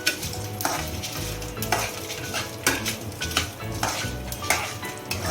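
Dried whole red chillies fry in a pan for a green chutney premix, with a continuous sizzle under rhythmic scraping and clinking as a metal spoon stirs them, the strokes repeating about once a second.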